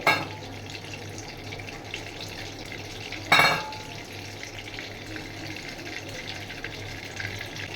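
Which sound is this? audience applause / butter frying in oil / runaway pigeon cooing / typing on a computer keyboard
butter frying in oil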